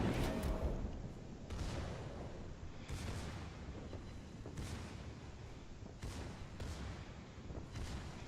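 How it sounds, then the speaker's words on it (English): The Bismarck's secondary batteries fire in World of Warships, a run of heavy booming shots at irregular intervals, each a loud broadband blast with a rumbling decay, about six or seven in all. "I take some shots at the Gneisenau with my secondary batteries"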